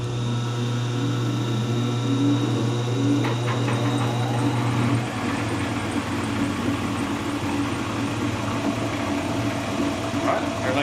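An old metal shaper machine starts up and runs in a workshop, a steady mechanical hum with a low drone that shifts midway as the motor settles, accompanied by light clicking and rattling.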